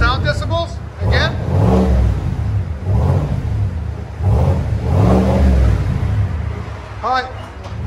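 Chevy Silverado High Country with a 5.3L V8 and Borla ATAK exhaust, revving in several loud rising-and-falling bursts against a rev limiter, close by, with people talking in between.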